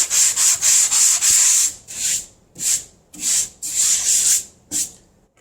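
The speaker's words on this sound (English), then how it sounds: "But I think if I sand this down enough until it's smooth" Old coarse lumber that once lay under carpet on a porch is sanded smooth by hand in repeated rasping strokes, about nine close, loud scrubbing passes with brief gaps between them.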